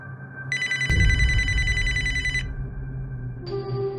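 A telephone rings in a room, an electronic trill that runs for about two seconds and then starts again near the end, with a low rumble and a brief bump underneath, and no talking.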